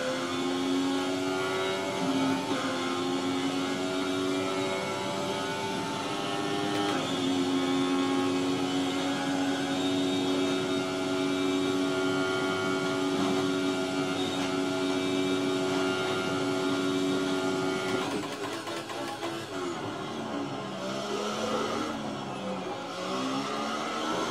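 An F1 car in the F1 2018 game runs a flying qualifying lap at Belgium, its high engine whine holding steady with pitch shifts through gear changes and a brief drop in revs near the end, without any talking.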